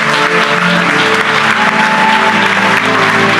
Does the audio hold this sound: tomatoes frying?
no